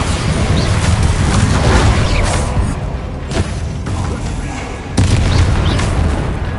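The Bombarda spell in Hogwarts Legacy sets off loud, booming blasts that fill the mix with rumbling bursts, a fresh impact hitting around the five-second mark, with combat effects and some talk underneath.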